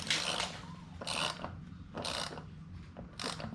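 Ratchet wrench working on the spindle of a Coleman KT196 go-kart, three or four short bursts of rapid clicking separated by brief pauses, close and fairly quiet with no talking.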